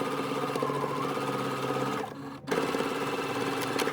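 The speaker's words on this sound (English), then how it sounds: "So you're sewing the other side of the zipper all the way down." A sewing machine stitches down the other side of an invisible zipper with a close, steady rapid chatter that pauses briefly near the middle and then carries on at the same even pace.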